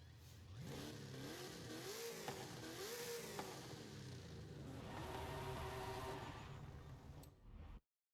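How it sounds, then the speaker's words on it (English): A 1970 Corvette's V8 in Forza Horizon 5 revs repeatedly, rising and falling in pitch before settling into a steady, throaty drone, then cutting off abruptly at the end; fairly quiet overall with no voices. "We have our 1970 Corvette ready to go."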